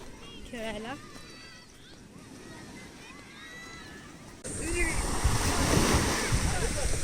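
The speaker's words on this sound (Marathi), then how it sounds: "हा आता पसरलेला समुद्र" Sea waves on a Konkan beach near a lighthouse roll and wash in, a broad surf roar that swells louder midway, mixed with wind buffeting the microphone while people talk over it.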